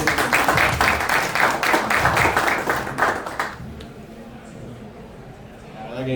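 Applause from a conference audience at a crypto entrepreneurship event rattles out loud and close for about three seconds, then fades into room noise as a voice begins speaking.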